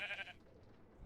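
A sheep in a video game gives a short, faint bleat, a brief nasal cry lasting a fraction of a second before fading into quiet background.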